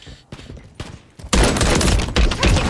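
Gunfire in the Call of Duty MW3 video game: a few scattered thumping shots, then a sudden loud, dense volley of rapid fire that continues to the end.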